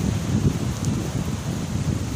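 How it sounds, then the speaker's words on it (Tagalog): Strong wind blowing through trees at a beach, a steady broadband rush with rustling leaves and gusty buffeting, heard alone and moderately loud. "Lakas ng hangin. Yan. Yung mga puno nagagalawan"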